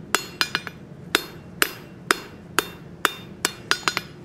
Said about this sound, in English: some back face hammer blows, get a true radius on that the way we want it to look